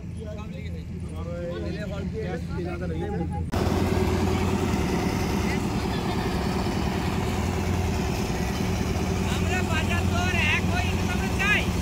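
A boat engine drones steadily through a ride, starting quieter and then jumping to a louder, constant rumble that runs to the end, with people talking over it.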